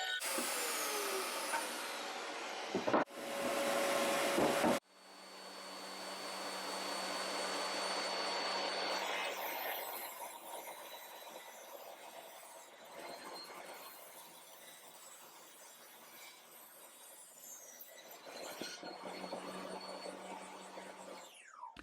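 A woodworking saw whines loudly, cuts off with a sharp clunk, then hums and rushes down as its electric brake engages, the motor noise fading steadily over several seconds in a workshop.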